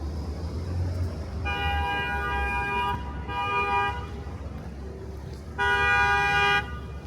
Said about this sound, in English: There you go, traffic.